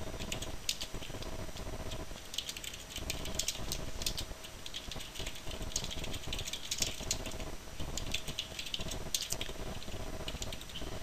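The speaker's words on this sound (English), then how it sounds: "I'm going to type our pivot table report heading." Steady typing on a computer keyboard while entering a report heading in an Excel spreadsheet, a continuous run of close, crisp key clicks with slight rattle and no talking.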